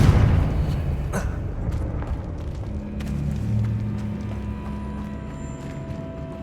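A Confringo blasting curse goes off in Hogwarts Legacy: one heavy, close explosive boom right at the start, then a long rumbling, crackling tail that slowly fades.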